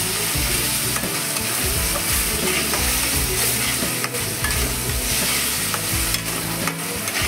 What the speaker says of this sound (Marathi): टोमॅटोचं चांगलं ग्रेव्हीला तेल सुटेपर्यंत चांगलं तळायचं.